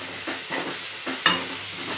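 Fenugreek greens sizzle in a hot pan for tempering, stirred with a few scraping strokes, a crackling frying hiss close by with one sharp clatter midway.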